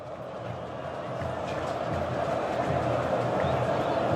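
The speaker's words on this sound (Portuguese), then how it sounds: "E o ambiente é esse aí, né? De torcida gritando olé" A football crowd chants olé at Corinthians versus São Paulo in the Neoquímica Arena, a broad stadium roar that slowly builds in volume while a commentator talks over it.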